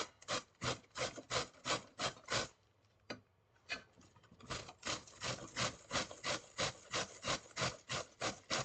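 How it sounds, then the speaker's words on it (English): Cabbage being grated for coleslaw produces a rhythmic series of close, scratchy rasping strokes, roughly two per second, with a brief pause partway through before the steady back-and-forth grating resumes. "I'm gonna grate this cabbage, make my coleslaw"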